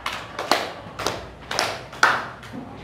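Children in an Indonesian primary classroom clap their hands during a counting clapping game, giving a handful of sharp, close group claps in an uneven rhythm with short pauses between them.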